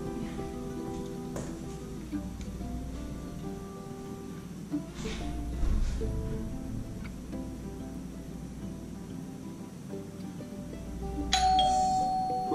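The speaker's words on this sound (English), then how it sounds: "hit the doorbell to make sure it works before I put it all up" A doorbell chimes twice, with a long gap between rings, over a low steady hum and no talking.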